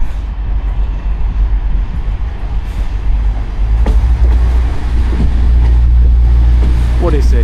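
A TransPennine Express train pulls into platform 6 at Sheffield station with a loud, low engine rumble that swells as it nears, joined by squealing brakes near the end, while a person talks over it.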